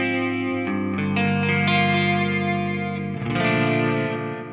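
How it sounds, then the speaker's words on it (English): An electric guitar plays sustained chords through a Seymour Duncan Dark Sun digital delay and reverb pedal, set with low feedback and reverb for a shimmering chorus-like modulation. The chords ring loud and close, with a fresh strum near the end. "So you can get some nice chorusy sounds."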